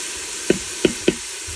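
Onions and garlic sautéing in a pan for pot roast, a steady soft sizzle broken by three sharp knocks of a utensil against the pan.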